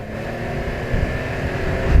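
2019 Can-Am Ryker three-wheeled motorcycle engine at full throttle, a loud continuous droning roar with wind buffeting, rising slightly in intensity toward the end.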